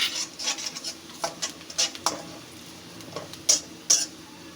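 Nigella seeds and fennel seeds tipped into a pan for a tomato pickle-style chutney, stirred with a utensil that scrapes and clinks against the metal in a series of short, uneven taps and scrapes, close and fairly quiet.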